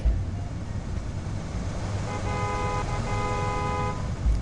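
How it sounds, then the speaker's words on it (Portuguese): Car horns honking in the video game Indigo Prophecy: two steady, sustained horn blasts over a dense, loud city traffic rumble. "Os caras buzinam, velho."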